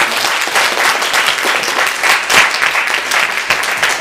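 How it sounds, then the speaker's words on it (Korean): Loud, close applause from a church congregation during a Sunday worship service welcoming a visitor, dense continuous clapping from many people that swells slightly near the middle. "박수로 환영합니다."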